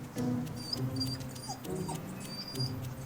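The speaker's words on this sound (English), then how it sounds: "If the guard dog will let him get rigged up." A guard dog whimpers and whines in short, repeated high-pitched cries while a heavy tow rig is prepared on a frozen highway wreck scene; steady low background rumble underneath, no talking.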